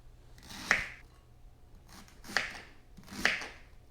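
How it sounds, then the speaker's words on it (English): Half an onion chopped with a knife on a board for onion gravy: three crisp, separate thuds spaced about a second apart, close and fairly quiet, with no voices. "I got about 1/2 of an onion here that we're gonna chop up"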